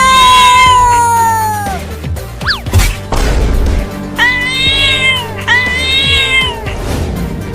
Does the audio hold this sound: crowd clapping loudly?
no